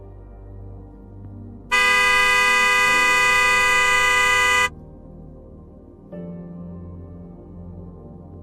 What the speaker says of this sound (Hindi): आप क्यों हॉर्न बजा रहे थे?